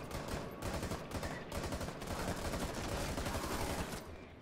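Rapid continuous automatic gunfire from the Outbreak mode of the video game Rainbow Six Siege, dense bursts filling the whole moment at moderate loudness, with no talking over it.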